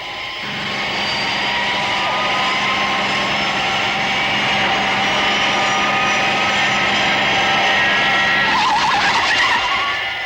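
An aircraft brakes hard on a runway in a 1964 French television series, a loud, continuous roar of engine and screeching tyres that holds steady for about ten seconds.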